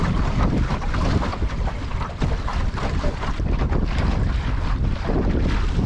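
Strong, steady wind roars and buffets a microphone on a sailboat on a busy lake, with a constant rush of waves and hull noise and no clear single burst.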